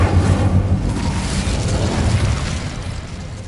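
An Incendio fire spell in Hogwarts Legacy bursts out as a loud, dense whoosh and rumble that roars at once, then slowly fades over a few seconds, with no voice over it.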